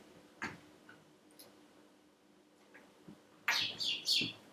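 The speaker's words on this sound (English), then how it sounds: "Oh, it's a bird." A small bird trapped indoors chirps: a few faint, sparse chirps at first, then a louder cluster of sharp, bright tweets close by near the end, in an otherwise quiet room.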